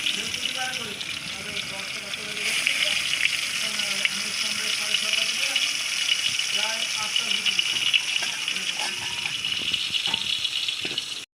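Fish frying in hot oil in a home kitchen pan, a steady broad hiss and crackle running the whole time at close range, with a voice talking over it and some clatter now and then.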